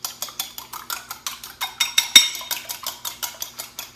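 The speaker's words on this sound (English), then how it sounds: "I've got my 2 eggs in here in this little bowl. We're just going to beat them up a little bit." Two eggs are beaten in a small bowl with a fork or whisk, making a fast, even run of close ticking clinks against the bowl, with one sharper knock midway.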